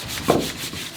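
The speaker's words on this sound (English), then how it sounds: "There's another option, hand sanding, literally" A continuous rough scratching of sandpaper rubbing across wood, close and steady, with one slightly stronger stroke near the start.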